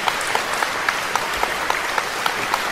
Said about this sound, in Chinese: 让我们给予热烈的掌声